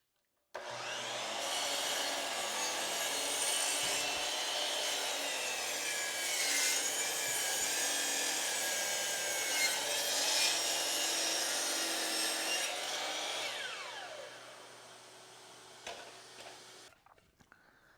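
A power planer trims the edge of a wooden end grain cutting board, a steady loud whirring cut that holds for about fourteen seconds, then winds down and trails off near the end.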